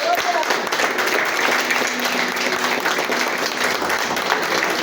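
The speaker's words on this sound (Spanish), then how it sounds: "quiero aplaudir al Señor" A church congregation applauds during a Spanish-language service, a full, continuous wash of many hands clapping, loud and steady, with some voices mingled underneath.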